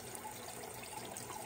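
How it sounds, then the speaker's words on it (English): Water pumped up through a 3D-printed tower garden from a bucket, a steady soft trickle and splash running continuously at low level with no talk. "So the water is being pumped up."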